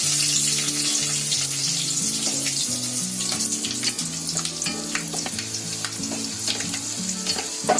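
Whole spices, including cloves, a small cinnamon stick, black pepper, a green cardamom and cumin, frying in ghee with a few cashews, giving a steady, close sizzle with scattered crackles and faint metallic clinks throughout, no voices.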